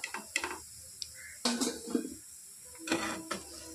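Fried mango pakoras are lifted out of hot oil and drained with a slotted spoon, making intermittent metallic clinks and scrapes against the pan, with faint bubbling between them and quiet pauses.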